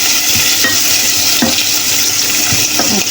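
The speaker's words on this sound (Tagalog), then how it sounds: "binibisa ko ng onion at bawang" Onion and garlic sautéing in a pan, a loud, steady close sizzle with a few spatula stirs and scrapes breaking through at regular intervals.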